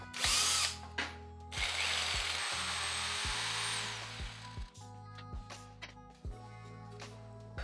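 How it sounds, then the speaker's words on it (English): A power drill whirs in repeated bursts, boring holes in wooden planks with short pauses between runs, close and loud. "Then we can start drilling them out."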